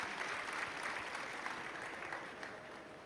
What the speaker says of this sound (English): give them a really big round of applause as they exit the stage